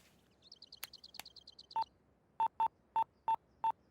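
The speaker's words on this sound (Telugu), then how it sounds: "ఒకసారి ఫోన్ ఇవ్వా, సునీతతో మాట్లాడాలి." A telephone being dialed, six clear touch-tone beeps in an uneven sequence, close and fairly loud, preceded by a chirpy electronic melody.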